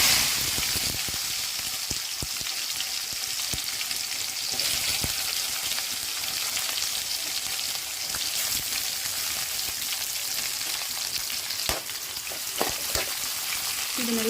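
Onion and dried red chillies sauté in a hot pan in a home kitchen, a steady close sizzle and hiss throughout, broken by a few sharp clicks and scrapes of stirring, with no talking.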